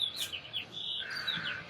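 Birds chirp and tweet outdoors on a sunny day, a run of short, bright calls and trills at moderate distance, steady over a faint background with no talking.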